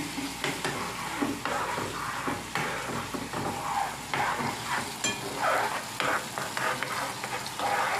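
Food sizzles steadily in hot oil in a kitchen pan, with repeated stirring scrapes and clinks over a constant crackle throughout.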